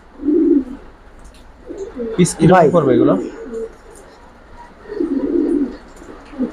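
Silver pigeons in a loft give soft, low coos at the start and again near the end, while someone talks in between.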